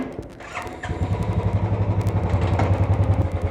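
A 2021 Royal Enfield Classic 350 in stealth black starts and settles into its thumping single-cylinder idle, a steady rhythmic putter close by with a clattering start at the beginning.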